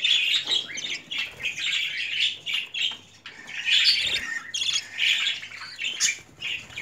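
Budgerigars in a cage squawk and chirp continuously, several birds calling over one another in bright, busy bursts, close and fairly loud with no voices.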